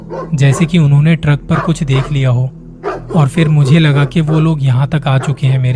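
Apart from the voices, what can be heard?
dogs barking, sound effect in a spoken horror story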